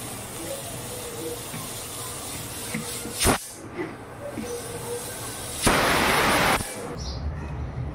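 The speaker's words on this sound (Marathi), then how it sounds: "आता आपण हे कुकरचं झाकण बंद करूया आणि 1 शिट्टी घेऊया।" A pressure cooker of ridge gourd curry on a gas stove turned to high lets out a loud, steady burst of hissing steam lasting about a second, after a brief sharp puff earlier, over a constant low background.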